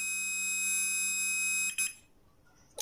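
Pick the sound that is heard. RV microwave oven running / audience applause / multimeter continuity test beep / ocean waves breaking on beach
multimeter continuity test beep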